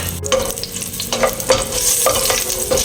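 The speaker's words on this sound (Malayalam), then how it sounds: "അപ്പോൾ നമുക്ക് ആ എടുത്തു വെച്ച ഓയിലിലേക്ക് മസാലകൾ ചേർത്ത് കൊടുക്കാം. അതൊന്ന് വഴണ്ട് വരട്ടെ." Spices fry in hot oil for a prawn dum biryani, a steady close sizzle with repeated spoon-stirring scrapes against the pan roughly every half second, no voices.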